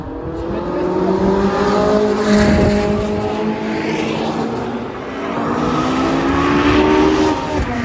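Racing cars drifting in a sprint-racing video game, including a Ford Focus RS drift build, roar loudly with long, wavering tire squeals and engine pitch that rises and falls throughout.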